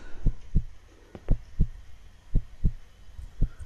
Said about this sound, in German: Herzschlag wieder schneller.